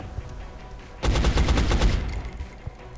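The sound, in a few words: gunfire from a soldier shooting in video game XCOM: Enemy Unknown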